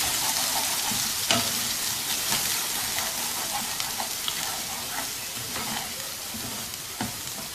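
Salt, turmeric and red chili powder stirred into hot oil in a pan for a Pakistani-style potato and pea curry hiss with a dense, steady sizzle, punctuated by soft scraping stirs, close and continuous with no talking.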